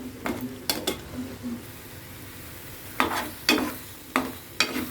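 Bitter gourd vegetables frying in a pan for a curry: a soft continuous sizzle broken by sharp, irregular scrapes and knocks of a spoon against the pan, heard up close.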